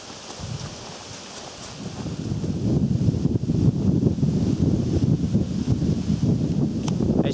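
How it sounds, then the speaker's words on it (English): Strong, steady wind on a mountain trail roars and buffets the microphone, building after the first couple of seconds and staying loud and gusty throughout with no talking. "it is windy as hell this morning"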